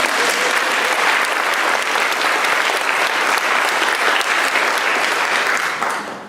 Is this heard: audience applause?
yes